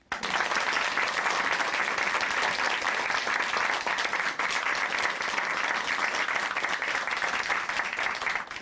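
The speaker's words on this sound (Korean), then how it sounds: "박수 부탁드립니다" Dense, steady applause from a church audience after a testimony on a Christian broadcast, loud and continuous from start to finish with no voices over it.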